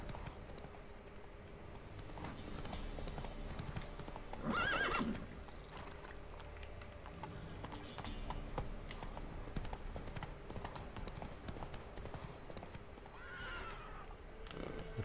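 A horse in the video game The Witcher 3: Wild Hunt gallops with steady rhythmic clip-clops, and a loud whinny breaks in near the middle before the hoofbeats carry on.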